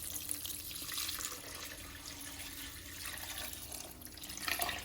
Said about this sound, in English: All right, in goes 4 cups of water.